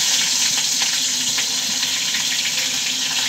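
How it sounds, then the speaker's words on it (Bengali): Black cumin seeds and chopped chillies crackling in hot oil in a kadai wok, a loud, dense, steady sizzle with faint popping throughout, close up and without talk. "কালো জিরে ফোড়ন দেবো কড়াতে"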